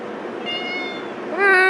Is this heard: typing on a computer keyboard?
no